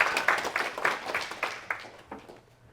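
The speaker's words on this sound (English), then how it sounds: "So let's give Mark a round of applause." Audience applause at a Women in AI startup event in London, a short burst of clapping from a modest crowd that thins and fades out.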